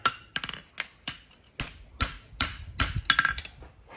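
A smith's hammer strikes metal on an anvil horn in quick, overlapping blows, a string of sharp, ringing impacts in uneven rhythm, close and clear with no voices.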